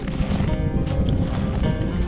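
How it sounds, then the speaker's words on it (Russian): Strong wind buffets a boat on open water during a burbot-fishing trip, a steady, loud, rushing roar with no one speaking. "Ветер так и не прекращается."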